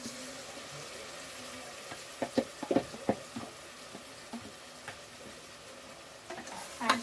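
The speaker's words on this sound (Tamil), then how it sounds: "இந்த ஸ்டேஜில் நான் மேரினேட் பண்ணி வச்சுருக்கேன் கறி வந்து இதில் ஆட் பண்ணிக்க போகிறேன்" Marinated meat goes into a hot, oiled pan for biryani and is stirred, giving a quiet sizzle broken by scattered scraping and clattering stirs, mostly in the middle and at the end.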